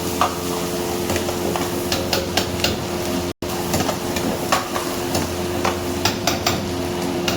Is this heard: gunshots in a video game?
no